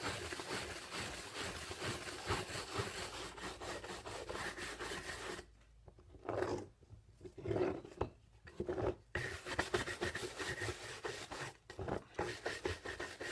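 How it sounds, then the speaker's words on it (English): Someone gives a finished leaded glass window a final rub down to clear off leftover cement. The soft, steady scrubbing is fairly quiet, with a few brief pauses partway through. "Final little rub down."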